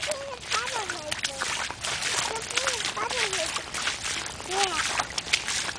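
A child walks through rain puddles on a rainy day, making repeated close splashes and sloshes while a voice chatters and sings over the watery steps.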